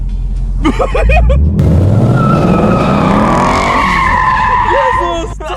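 A car skidding under full throttle, a loud close roar of the engine rising with squealing, scrubbing tires that lasts several seconds, while people talk excitedly at the start and end.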